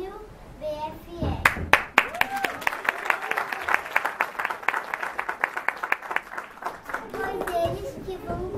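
An audience claps steadily at a Brazilian graduation ceremony, a dense patter of many hands lasting several seconds, with children's and adults' voices chattering before and after.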